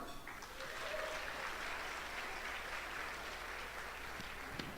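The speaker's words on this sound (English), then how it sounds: "Let's give a big round of applause for this incredible evening so far" Guests at a scholarship gala applaud, a continuous, distant wash of clapping from a sizable crowd, soft and steady throughout, with faint voices mixed in.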